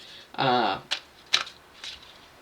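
A quick riffle of cards, followed by a few sharp taps and light shuffling sounds, close and fairly clear.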